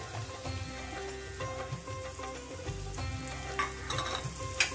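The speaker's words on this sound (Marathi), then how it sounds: "कांद्याचा थोडासा रंग बदलला की त्यामध्ये बारीक चिरलेली ढोबळी टाकून घ्यायची आहे" Chopped onion and finely cut capsicum fry in a pan with a continuous close crackling sizzle, dotted with light stirring scrapes and taps.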